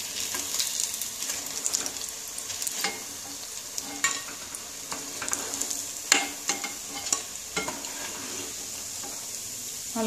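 Banana flower cutlets fry in oil with a constant fine sizzle, punctuated by sharp clinks and scrapes of a utensil against the pan as pieces are turned and lifted out.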